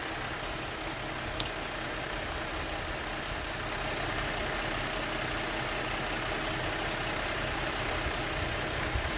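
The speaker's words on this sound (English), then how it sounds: "Engine's running rough." Rough-running 3.5 litre engine of a 2007 Saturn Aura with a cylinder misfire, a continuous close, loud idle with an uneven texture and a brief tick near the start, no talking.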